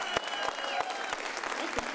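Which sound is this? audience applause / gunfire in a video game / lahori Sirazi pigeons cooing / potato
audience applause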